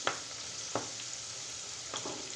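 Green chillies cut lengthwise sizzle in hot oil with cabbage for Cabbage 65, a steady close fizz broken by three sharp scrapes of stirring.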